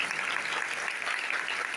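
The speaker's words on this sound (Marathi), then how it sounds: "त्याच्यासाठी जोरदार टाळ्या वाजवायच्या." Enthusiastic audience applause at a Shiv Mahapuran religious gathering, clapping for a singer who has just performed. Dense, steady, continuous clapping with no voices, holding evenly for the whole span.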